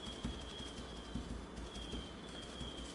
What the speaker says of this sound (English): Tons of birds outside.